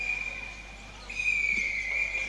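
A referee's whistle blown for half-time at a netball match, a sustained high tone that fades briefly then resounds louder, carrying over faint crowd ambience.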